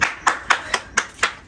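A child's bare hands clap seven times at an even, fairly quick pace during a casual indoor family moment; each clap sharp, close and crisp, with no talk over it.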